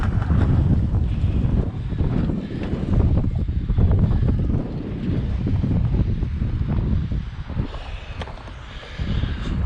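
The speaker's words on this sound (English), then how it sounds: "whoa, it's really windy now" Strong wind at a skate park buffets the microphone in steady low roaring gusts, loud and continuous throughout, with no talking.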